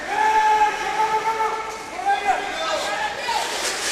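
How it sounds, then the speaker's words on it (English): Several roller derby officials blowing whistles during a tournament bout, shrill overlapping whistle tones repeating over an arena crowd, with a person talking throughout. "Lots of whistles being blown by 3 or 4 officials."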